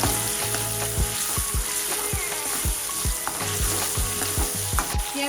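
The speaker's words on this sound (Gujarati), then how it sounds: "આપણે ક્રશ કરેલું ટામેટું ઉમેરીશું. તેને સાંતળી લઈશું." Crushed tomato sautéing with onion and garlic paste in a pan for pav bhaji, a steady loud sizzle broken by repeated scraping stirs of a spoon against the pan, with no talking.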